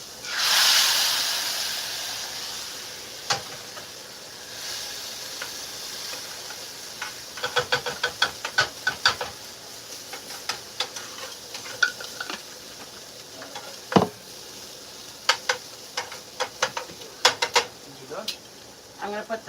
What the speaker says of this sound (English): This is steaming right now.